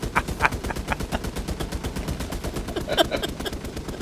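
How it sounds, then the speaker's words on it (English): Video game guns fire in rapid, sustained bursts of close automatic shots, with a few sharper cracks mixed in across the whole stretch. "I walked in and guns are shooting at me."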